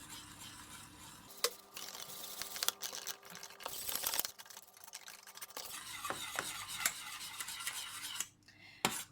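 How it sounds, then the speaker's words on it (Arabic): A utensil stirs flour into a pot of Iraqi halawa, giving close, continuous scraping and clinking against the pot in an uneven rhythm, with a faint sizzle beneath. "راح اضيف لها اول كوب من الطحين مع التحريك المستمر"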